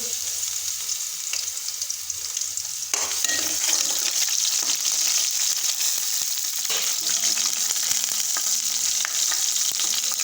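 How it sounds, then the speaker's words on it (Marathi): Garlic sizzles and fries in hot oil in a home kitchen pan, a steady close crackling hiss that grows louder partway through and continues alone without talk. "पेपर तेल मस्तपैकी गरम झालेला आहे लसण टाकून घेऊ"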